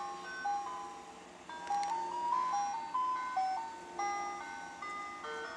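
A North Idaho ice cream truck plays its chiming jingle, a bright tinkling melody of repeated notes that sounds moderately distant and plays alone.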